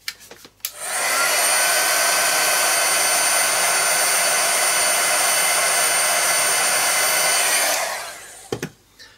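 A hair dryer drying paint on an art journal page blows a loud, steady whoosh for about seven seconds, then switches off with a few handling clicks.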